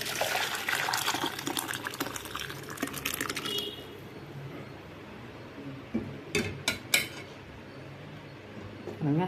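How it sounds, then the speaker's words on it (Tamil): Pepper rasam poured from a cooking pot into another vessel, a steady liquid splash and gush for the first few seconds that then fades to quiet kitchen room tone, with a few sharp clinks of metal utensils near the end. "ரசம் நல்ல வாசனையோடு அப்படியே எடுத்து வேறு பாத்திரத்தில் மாற்றிடலாம்."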